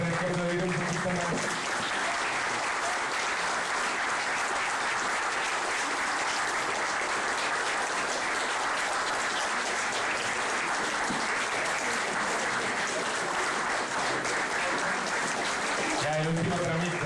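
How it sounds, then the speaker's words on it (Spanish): Sustained, loud applause from a school festival audience, dense crowd clapping that holds steadily for many seconds with brief voices at the start and end. "Así que van a tener que aplaudir un poquito más."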